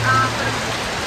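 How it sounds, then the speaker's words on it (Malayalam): Steady rain hisses evenly throughout, a dense wash of pattering with no pauses. "അപ്പൊ ഇപ്പൊ നല്ല മഴയാട്ടോ"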